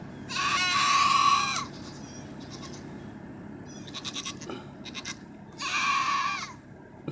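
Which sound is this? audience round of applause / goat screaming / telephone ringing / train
goat screaming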